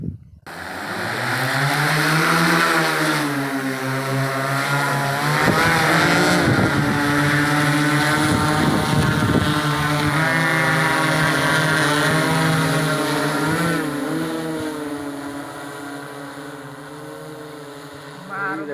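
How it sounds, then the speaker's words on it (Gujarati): An agricultural drone spraying pesticide over a cotton field gives a loud, steady rotor drone with a tonal whine. It runs without a break for the whole span and eases off slightly toward the end. "આ ડ્રોનથી જે દવા છટાઈ રહી છે"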